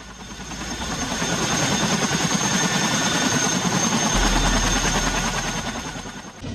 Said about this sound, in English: The CH-47F Block 2 Chinook helicopter is the latest version of the Chinook series